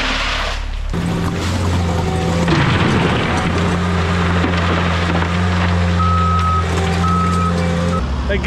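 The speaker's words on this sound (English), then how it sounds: "That guy's been backing up for half a mile." A gravel truck reverses along a long trail, its backup alarm beeping in a steady, evenly spaced rhythm over a loud, constant diesel engine rumble close by.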